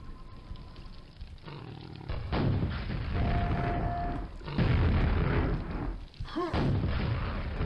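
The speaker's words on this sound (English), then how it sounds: "I think this is a safe enough spot where we can use rockets." Rockets explode in Quake 1 as heavy, roaring booms that swell and rumble one after another, loud and close, over a low, growling game ambience.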